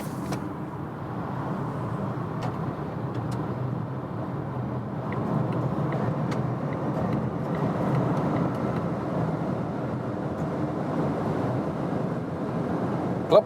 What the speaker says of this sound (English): the new Volvo XC40 EV, and let's accelerate it out